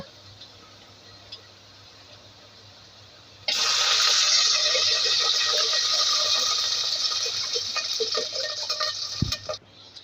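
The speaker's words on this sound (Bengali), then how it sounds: "এখন আমি পানি দিয়ে দেব" Water is poured into a pan of fried onion and garlic for a Malabar spinach curry. A quiet low sizzle suddenly gives way to a loud, sustained rushing hiss that fades slowly, ending with a spoon knock.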